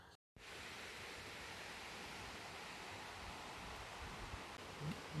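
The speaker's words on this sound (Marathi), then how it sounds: "इथे खालून नदी वाहते तिचा आवाज येतो पाण्याचा आवाज येतो खळखळ खळखळ" A river flows below a forest temple in the Sahyadri hills, a steady, even rush of water heard from a short distance, continuous and alone after a brief gap at the start.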